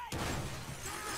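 A grenade blast in the video game Call of Duty World at War bursts in suddenly after a brief quiet moment, then a loud, crackling, shattering wash of debris trails off without any voice.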